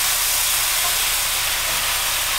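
Orecchiette dropped into a pot of boiling water gives a loud, steady hiss and bubbling roar that continues unbroken for the whole short stretch.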